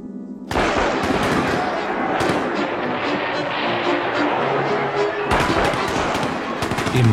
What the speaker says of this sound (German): Im Hagel der Schüsse und Säbelhiebe traf die Enttäuschung die Demonstranten bitterer als jede Kugel.